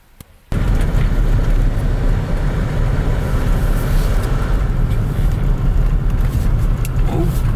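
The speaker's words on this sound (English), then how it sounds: "the Land Rover is honestly trucking through everything" A Land Rover drives along a snowy road on a ski trip, its engine and tyre roar a loud steady rumble heard from inside the vehicle after a quiet opening moment.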